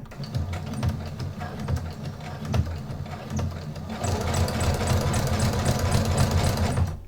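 A home sewing machine running at a short stitch length of about 0.8, stitching a seam on a nursing cover, with a steady close mechanical whir that rises to a busier, louder hum partway through.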